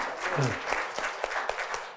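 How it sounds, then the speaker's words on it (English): A conference room of people claps steadily for a panel, a dense patter of hands with a brief voice near the start, moderately loud and continuous. "an even greater round of applause to our excellent panel"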